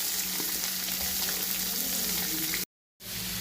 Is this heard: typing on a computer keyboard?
no